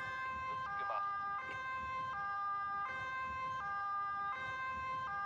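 A two-tone electronic air horn on an emergency vehicle in the video game Emergency 4, alternating steadily between a high and a low pitch over low road rumble, moderately loud with no talk.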